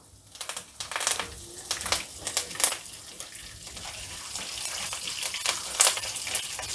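Curry leaves and dried red chillies frying in hot oil for tamarind-leaf rice, a continuous crackling sizzle with sharp pops and bursts, fairly close and steady throughout.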